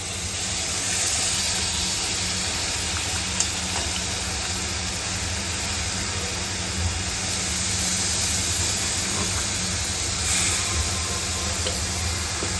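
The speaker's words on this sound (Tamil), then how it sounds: "இந்த சிக்கனை அப்படியே அதில் போட்டுக்கிறோம்" Constant loud sizzling hiss from frozen chicken dropped into a hot pan, steady throughout with occasional faint pops.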